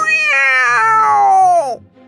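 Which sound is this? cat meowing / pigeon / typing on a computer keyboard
cat meowing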